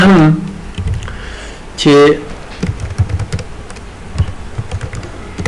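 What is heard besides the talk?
typing on a computer keyboard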